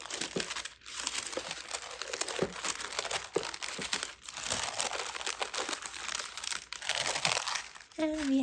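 Tissue paper inside an orange gift box crinkles and rustles loudly and continuously up close, with repeated crumpling bursts and brief pauses as it is handled.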